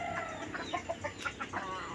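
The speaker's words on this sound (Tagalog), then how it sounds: "Ang mga manok nag-iintay na ng patuka." Several chickens clucking while they wait for feed in the afternoon, with a run of short, close, overlapping clucks and calls.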